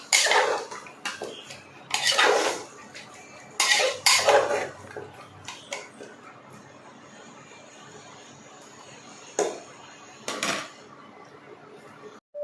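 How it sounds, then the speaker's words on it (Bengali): Mutton is stirred with masala in a pot, heard as several sharp metallic scrapes and clanks of a spoon against the vessel in irregular bursts, separated by quiet gaps. "এরপরে মটনের মধ্যে ভালোভাবে মশলাটা মিশিয়ে নেব।"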